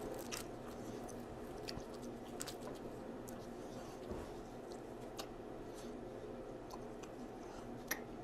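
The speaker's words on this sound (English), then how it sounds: "Chew and chew and chew and chew." Close, quiet chewing of beef jerky, with steady wet, squishy mastication and small clicking crunches repeating throughout, nothing else over it.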